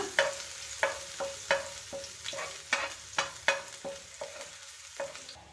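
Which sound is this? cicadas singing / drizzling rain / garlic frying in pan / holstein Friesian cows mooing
garlic frying in pan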